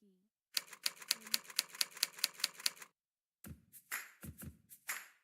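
Rapid keystrokes on a computer keyboard, a run of about ten even, crisp clicks followed by a short pause and a few scattered, heavier key presses, close and quiet with no one talking.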